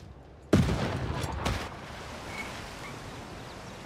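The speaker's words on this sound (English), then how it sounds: "Just Aztec artillery." Aztec artillery fires in Civilization VI: a sudden loud blast followed by a couple more booming impacts, then a long fading rumble into quieter ambience.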